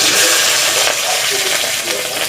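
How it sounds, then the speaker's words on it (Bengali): Dry red chillies and cumin seeds tempered in hot oil for a kosha chicken dish: a steady, bright sizzle and hiss that stays loud and even throughout, with no talking. "শুকনো লঙ্কা জিরে তেলের উপরে ফোড়ন দেব।"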